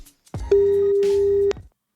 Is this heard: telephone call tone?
yes